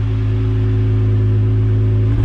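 A 2021 Jeep Gladiator engine idling steadily through a Dynomax Quiet Crawler exhaust, a loud, close, even low rumble with a deep drone and no change in pitch.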